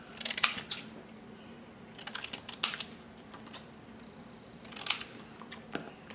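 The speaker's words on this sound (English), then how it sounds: "So I'm just gonna cut some squares out roughly" Scissors snip roughly cut squares from paper for a slide and stamp embellishment, coming in short clustered bursts of crisp clicking cuts with quiet pauses between them, close up and with no talking.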